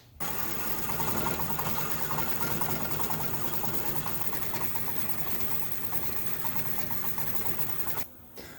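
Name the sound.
machine cutting tool steel slowly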